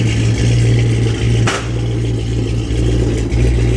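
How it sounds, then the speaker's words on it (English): Dodge Challenger or Dakota R/T exhaust fitted with bigger Karnage mufflers and turn-downs at the rear, a loud, deep, steady idle rumble up close with a couple of brief blips. "this is with the bigger Karnage mufflers with turn downs right at the rear end"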